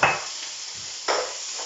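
Chopped olives crackle and sizzle in a hot frying pan, with a brief bump of the pan and a fresh burst of hissing partway through.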